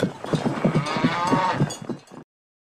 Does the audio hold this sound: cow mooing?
yes